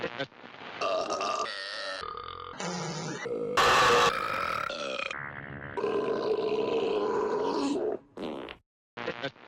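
A loud, exaggerated burp from an Italian comedy teaser stretches into a series of grunting, roaring belches, with bursts of voice mixed in and a short pause near the end.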